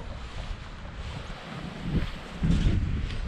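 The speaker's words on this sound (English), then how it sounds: "Try and stay out of the wind a bit." Wind gusts steadily across open water at a pike fishing spot, a low rumbling buffet against the microphone that swells louder toward the end.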